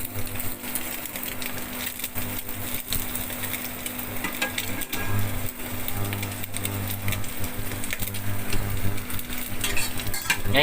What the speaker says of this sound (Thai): ระหว่างที่รอไข่สุก ให้มันพอดีกระเทียมนะครับใส่ลงไปเลย